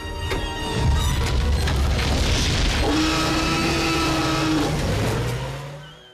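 A Jeep engine roars loudly throughout a film chase scene, with sustained revving, a rising whine and deep booming rumble before fading out at the end.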